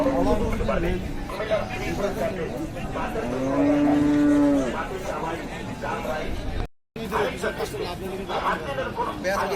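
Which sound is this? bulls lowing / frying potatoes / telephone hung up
bulls lowing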